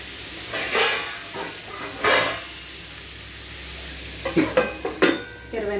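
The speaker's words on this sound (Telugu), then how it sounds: "ఒకసారి మనం కలిపేసి మూత పెట్టుకుంటే మంచిగా మనకి దగ్గరికి వేగుద్దండి" Onions with a pinch of turmeric stirred in a frying pan, with a soft sizzle under several clattering scrapes of a spoon against the pan in two short bursts.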